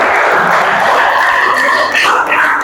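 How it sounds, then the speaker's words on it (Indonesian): Steady applause from a group during a classroom talk-show roleplay, a dense, even wash of clapping that holds at the same level for the whole stretch. "Boleh beri tepuk tangan dulu."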